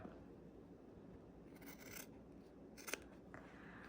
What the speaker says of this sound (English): Let me grab a pair of scissors. Okay, so we're going to just try to get a straight cut here.